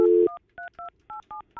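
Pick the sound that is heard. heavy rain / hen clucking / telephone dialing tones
telephone dialing tones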